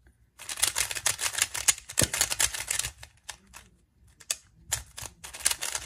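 A loose, fast RS3 2020 speedcube is turned in quick bursts, its plastic layers giving dense rapid clicking and clacking close by, with brief pauses between runs of turns.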